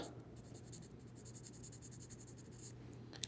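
A Sharpie marker squeaks and scratches steadily across a steel axe head in a quiet workshop, with faint continuous strokes and a hum underneath, ending with a small click.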